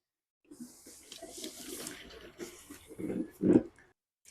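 Fuel being poured into the tank of a BMW K100 motorcycle: a faint, close, sloshing liquid gurgle that builds unevenly over a few seconds and then stops, with no talking.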